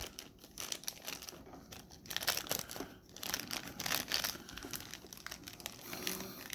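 Thin plastic wrapping being peeled and pulled off a Stardust Whisper of the Stars collectible figure, with close, continuous crinkling and rustling that swells into sharper crackles at moments.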